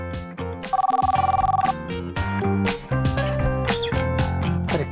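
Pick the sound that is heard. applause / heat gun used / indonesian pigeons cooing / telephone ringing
telephone ringing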